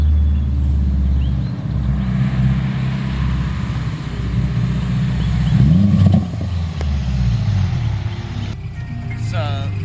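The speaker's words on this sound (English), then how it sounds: "2005 Subaru Impreza RS. None of that fancy tuner WRX FTI stuff." A 2005 Subaru Impreza RS driving up, its engine rumbling steadily and swelling briefly as it nears, with people talking nearby.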